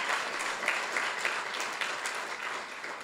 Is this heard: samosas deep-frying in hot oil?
no